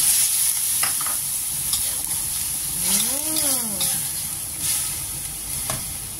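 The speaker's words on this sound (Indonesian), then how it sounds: "Jangan lupa kasih air yang mendidih ya." Boiling water is poured into a pan of chicken and mushroom cooking in a home kitchen, bringing a sizzle and bubbling splash with stirring, plus a brief gliding whistle-like tone midway.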